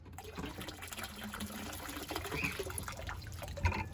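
Water splashes and gushes steadily as a batch of minnows is poured into a newly filled snapping turtle pond outdoors, a continuous pouring sound with a louder splash near the end.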